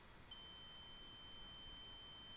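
Steady electronic beep from an Afinia H+1 3D printer's platform-leveling touch probe, two sustained tones starting a moment in and holding to the end over a faint background hiss.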